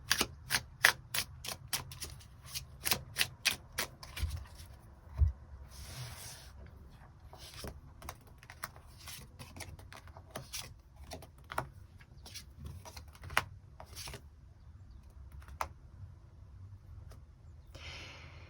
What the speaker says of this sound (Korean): 그럼 그 이후에는 어떤 연애 이야기가 펼쳐질지 추가 카드 뽑아보도록 하겠습니다